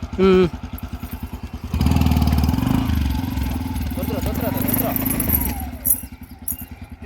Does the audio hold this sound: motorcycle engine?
yes